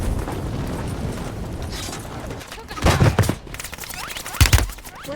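Gunfire in a Warzone Plunder Quads match rings out as rapid bursts of weapon fire and heavy thuds over constant battlefield noise, with louder close volleys at two points.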